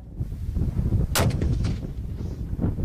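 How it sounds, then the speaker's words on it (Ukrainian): Test firing of a new Ukrainian mortar at a proving ground: a single sharp, loud blast with a rolling echo trailing off over outdoor ambience, and no talk. "Зброю зважують і роблять пробні постріли."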